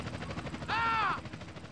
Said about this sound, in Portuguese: Nossa, já tem helicóptero, já tem helicóptero.